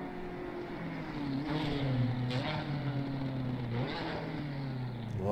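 BMW M4 GT4 race car in Assetto Corsa Competizione at Barcelona, a loud close engine that revs and blips sharply through several downshifts, pitch rising and falling, with no talk over it.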